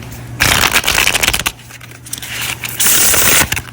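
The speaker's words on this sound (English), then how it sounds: "This deck is wonderful to shuffle with. So this feels really good in the hands. And just go ahead, one more riffle here." Cards riffle-shuffled from a Lumina tarot deck: two loud bursts of rapid flapping and crackling, close by, with a quieter rustle of handling between them, and no talk.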